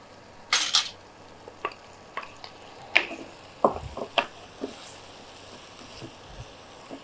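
Fried paneer cubes tipped into a pan of paneer pickle thokku produce scattered clinks and scrapes of utensils against the pan, close and irregular, over a quiet background.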